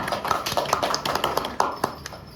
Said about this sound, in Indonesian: Beri tepuk tangan untuk Mbak Irhana.